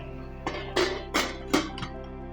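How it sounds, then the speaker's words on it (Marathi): Metal clinks and clanks as a lid is set onto a cooking pot holding mutton chops, four or five sharp knocks in quick succession over a low steady hum. "आता आपण झाकण लावूया त्याला"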